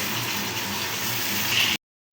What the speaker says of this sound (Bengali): সামান্য পরিমাণে একটু পানি দিয়ে দিলাম যাতে মশলাটা পড়ে না যায়